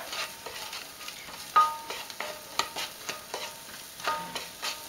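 Prawns and chorizo for risotto sizzle steadily in a hot pan, close up, with crackles and the scrape of stirring now and then, no talking.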